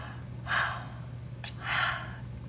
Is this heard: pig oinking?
no